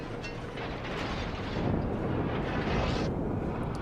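Naval gunfire in World of Warships, an enemy ship firing at a Tier 5 Gnevny destroyer, comes through as a steady, dense rumbling roar with mechanical clatter that swells slightly midway and holds loud to the end.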